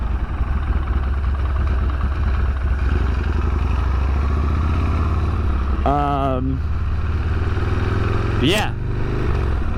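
A 1998 Harley-Davidson Sportster 883 rumbles steadily while being ridden, a loud low engine drone throughout, with brief voices breaking in over it.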